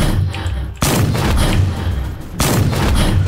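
Heavy gunfire in the Roblox game A Bizarre Day, loud bursts of shots filling the clip with dense booming blasts and two sharp new volleys breaking in partway through.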